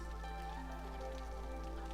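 Rain falling in the video game Against the Storm, a soft patter of drops over a low steady hum and faint sustained music tones, quiet and continuous.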